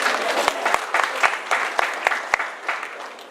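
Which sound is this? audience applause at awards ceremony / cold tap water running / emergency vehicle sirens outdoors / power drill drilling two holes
audience applause at awards ceremony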